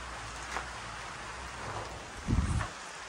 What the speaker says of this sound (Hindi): ये देखिए भाई साहब बिन मौसम बारिश क्या होने लग गई